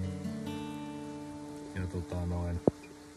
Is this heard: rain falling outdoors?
yes